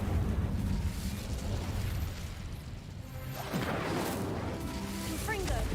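A fire spell bursts in a Hogwarts Legacy battle, a loud, roaring, crackling blast layered over dense, steady combat noise for several seconds.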